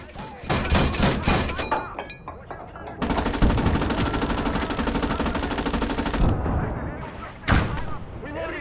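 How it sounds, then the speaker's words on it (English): A Duggan machine gun in the WWII game Call to Arms: Gates of Hell fires scattered heavy shots and booms, then a long continuous rapid burst for about three seconds, ending with another loud impact. "The Duggan machine gun opens up"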